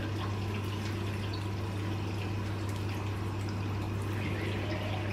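Tap water runs steadily into a bathroom sink while someone washes their face, a continuous close splashing stream with a low hum underneath and no talking.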